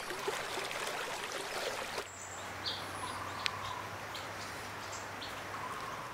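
Dawn on the Noadehing River in Namdapha National Park: a steady flowing, trickling stream fills the scene while scattered bird calls and chirps ring out above it, with a brief shift in the water's tone partway through.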